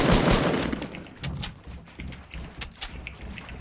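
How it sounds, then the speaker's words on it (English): Rapid bursts of gunfire in a Fortnite Battle Royale tournament match, loudest at the start and then recurring as sharp, scattered shots. "They're shooting down."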